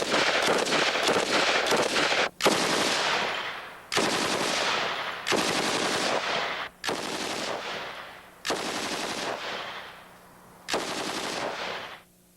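A Stoner machine gun fires in long sustained bursts, loud and close, about six rapid strings of automatic fire separated by brief pauses.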